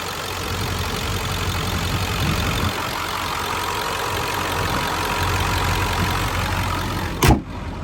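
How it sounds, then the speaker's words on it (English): A 2003 Ford Excursion Eddie Bauer 4WD with a 7.3L Powerstroke diesel idles steadily under the open hood, a close, even rumble with a sharp knock or clunk near the end. "let me show you under the hood again so you can hear it idle"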